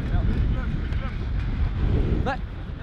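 Strong wind buffets the microphone with a constant heavy roar, and faint voices and calls cut through briefly.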